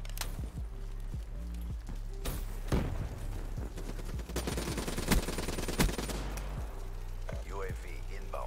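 Repeated gunfire in a first-person shooter game, bursts of automatic fire and single shots cracking over a steady low game rumble, with voices talking through it.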